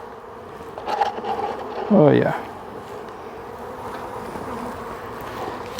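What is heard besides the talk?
honeybees buzzing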